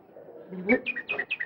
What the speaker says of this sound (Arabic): النوع اللي بيعمل صوت الكناريا ده من جزر الكناريا.